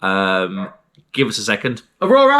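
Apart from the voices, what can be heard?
None of the usual background noises is heard.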